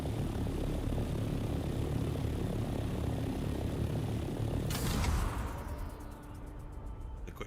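An ornithopter in the Dune Awakening game flying over sand, a steady loud whirring engine drone that swells and then changes pitch and thins out as the craft shifts, with no talking.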